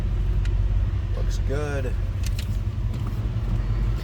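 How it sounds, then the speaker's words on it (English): Ford 289 V8 in a 1966 Mustang convertible idling with a low, steady rumble through a GT-style exhaust, continuous throughout, while a person speaks briefly over it and a short whine sweeps up midway. "Just nice sounding 289. A little rumble coming out of that."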